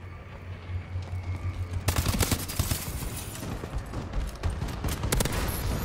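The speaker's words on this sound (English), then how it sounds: "Friendly bombing run clearing the way." Friendly bombing run in the shooter Advanced Warfare: dense rapid gunfire and explosions in a continuous loud barrage, kicking in hard after a brief quieter hum, with bursts cracking repeatedly throughout.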